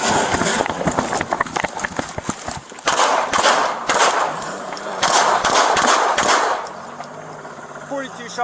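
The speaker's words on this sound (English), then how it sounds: "Shots fired." Gunfire during a police shooting recorded on a bodycam, rapid loud bursts of shots in quick succession amid chaotic movement and noise, close and harsh, with a voice briefly audible.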